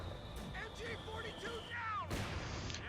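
Mortar fire in the World War II strategy game Company of Heroes 2 lands as one sharp, loud boom near the end, after a few muffled distant impacts, with a voice speaking over the battle.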